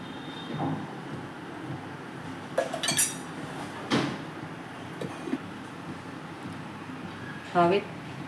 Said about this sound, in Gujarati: હવે ગેસ ઉપર કઢાઈ મૂકી અને તેમાં થોડું તેલ પાડીશું